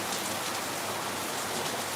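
Heavy rain pours down steadily in Lagos, a dense, even hiss of drops with no pauses and no voices.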